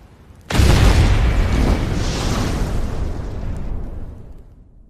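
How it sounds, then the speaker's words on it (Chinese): Fireworks in an animated fantasy show go off as one sudden, loud boom, then a long rumbling, crackling decay that fades over several seconds. "请你们看烟花"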